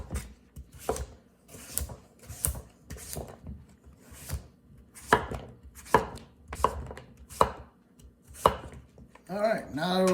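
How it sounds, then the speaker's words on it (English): Squash cut into half-moon pieces with a knife, sharp repeated chops on a board at an uneven steady pace, close and clear, with a brief clatter of pieces at the end and no voices. "Try to cut them all same size so they all cook evenly."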